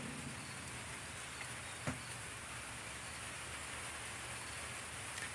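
Steady rain falls in a soft, even hiss, faint and continuous, with a couple of brief clicks and no voices.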